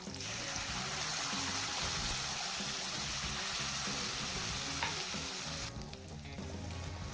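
Black chickpea curry sizzles and fries steadily in a pan as ground paste is stirred in, with continuous close frying crackle and scraping throughout, no talk.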